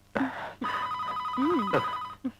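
A telephone rings in a dubbed Hindi film scene, its electronic tone looping for about a second and a half between brief clicks and short murmurs; nothing is said over it.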